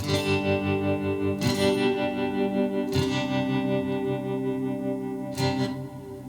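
A sustained, shimmering chord from a Donner Hush I Pro travel guitar pulses with tremolo and washes of reverb, struck anew three times with bright attacks that ring out and decay.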